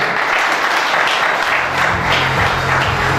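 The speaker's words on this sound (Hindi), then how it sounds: "तालियां" An audience at a Safe Shop business meeting in Allahabad breaks into loud, dense applause that fills the whole moment, close and sustained without talk.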